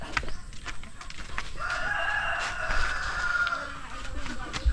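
Farmyard chickens and chicks in the countryside call and cluck at close range, one longer drawn-out call in the middle, over a busy rustling background.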